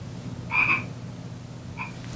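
Frog croak played as a sound effect, two short croaks, the first louder and the second softer, alone over quiet background hum.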